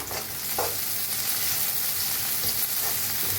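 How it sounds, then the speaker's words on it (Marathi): Onion sizzling in hot oil in a kadhai wok for egg fried rice, a loud continuous hiss with a few spatula scrapes and stirring clatters close by. "तेल चांगलं तापलंय, त्याच्यात टाकूया आपण कांदा. आता भाजून घेऊया कांदा."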